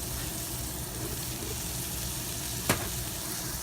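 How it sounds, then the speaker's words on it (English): Halved button mushrooms, about a pound, added to a hot Instant Pot, giving a steady broad sizzle throughout with one brief sharp click. "And then we're going to put our mushrooms in."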